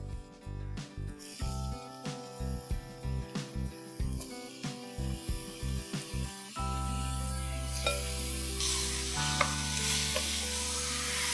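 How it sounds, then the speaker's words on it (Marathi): Half a kilo of mutton sizzles in a hot pan of masala, with rhythmic scraping strokes of stirring at first, then a steady loud frying hiss, close up and without talk. "हे मी अर्धा किलो मटण घेतलंय, तर ते आपण आता घालून जरा फ्राय करून घेऊया।"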